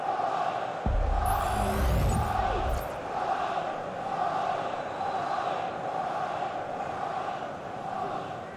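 A stadium crowd in the football video game EA Sports FC 24, a steady roar of many voices with a louder swell of cheering near the start, continuing at a constant level.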